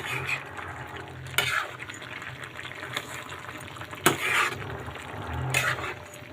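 Shrimp stir-fried with winged beans in a pan, a soft steady sizzle broken by three louder scraping strokes of a spatula turning the food, close and without talk.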